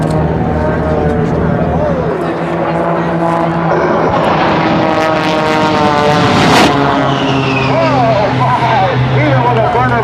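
An aerobatic propeller airplane racing past at the 2007 Rhode Island airshow, a loud continuous engine drone rising and sweeping by, with an announcer talking over it and crowd noise behind.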